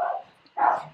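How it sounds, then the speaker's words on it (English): A dog barks twice in the background indoors, two short muffled woofs separated by a brief pause, moderately faint. "I'm sorry about my dog barking in the background"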